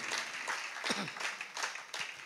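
Audience applause at a Jain monk's sermon in Nagpur, a steady wash of clapping from a crowd that carries on throughout without pause.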